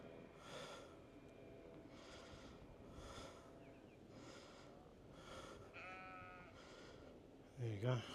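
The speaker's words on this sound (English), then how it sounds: "more sheep." Sheep in a field bleat repeatedly in short, evenly spaced calls, moderately distant over a steady outdoor hum, with a snort near the end.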